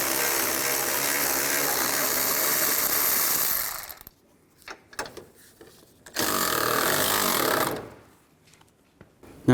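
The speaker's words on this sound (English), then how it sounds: "Use a 15mm socket. Take the nuts off the upper strut mount." Power ratchet with a 15mm socket spinning off the upper strut mount nuts on a Chevy Traverse, two loud sustained whirring bursts separated by quieter clicks and handling noises.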